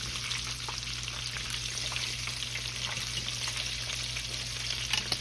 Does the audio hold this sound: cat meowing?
no